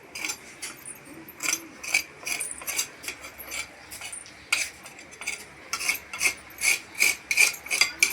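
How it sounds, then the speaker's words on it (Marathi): A metal utensil scrapes the burnt crust from the bottom of a cooking pot in a village kitchen, giving a rhythmic series of close, rasping strokes that quicken toward the end. "आता कशाला एवढी खर ओढून घेते का एवढं कशाला खर ओढून घेऊ राहिले टोपात काढ ना"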